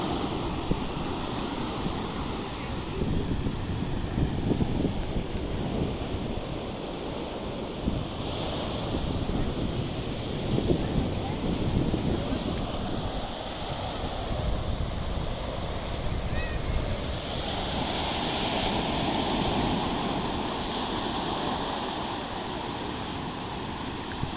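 Surf breaking steadily on Sichon beach in Nakhon Si Thammarat, Thailand, with gusty wind buffeting the microphone throughout; a broad, continuous wash of waves, loud and close, with no talk.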